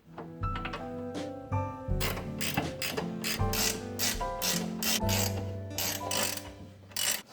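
A ratchet tightens the bolts on a car being built up from the frame, with rapid close clicking pawl runs in repeated bursts and short pauses between strokes.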